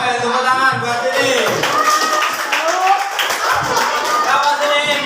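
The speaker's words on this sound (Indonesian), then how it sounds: "Tepuk tangan buat ini." An audience at a university teaching workshop session breaks into loud, sustained clapping that lasts throughout, with voices talking and calling out over the applause.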